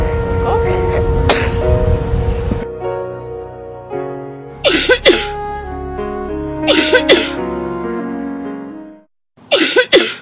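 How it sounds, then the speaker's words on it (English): A child gives several sharp coughs in short bursts, close by, with pauses between them and faint voices before. "give me a good cough"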